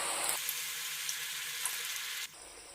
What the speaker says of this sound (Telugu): ఇవి కొంచెం ఫ్రై అయ్యాక టర్న్ చేసి ఇంకొక సైడ్ కూడా ఫ్రై చేసుకోవాలి.